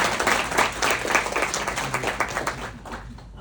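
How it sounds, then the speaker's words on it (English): An audience applauds a panel at a mixer event, with a burst of clapping that thins and fades out toward the end. "Round of applause, definitely."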